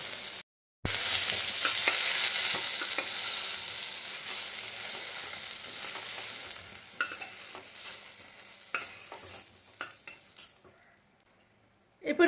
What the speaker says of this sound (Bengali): এটা এর চেয়ে বেশি আমি ভাজবো না, এই রকমই রাখবো, বেশি ভেজে নিলে না নেতিয়ে যাবে